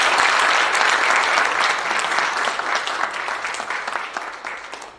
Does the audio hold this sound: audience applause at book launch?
yes